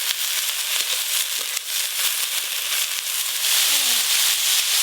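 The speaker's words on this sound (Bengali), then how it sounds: "কেটে ধুয়ে রাখা মূলো শাকগুলো দিয়ে একটু ভালো করে নেড়ে নেব।" Radish greens stirred into a frying pan with chopped onion sizzle loudly and steadily, a continuous close hiss and crackle with faint scraping throughout.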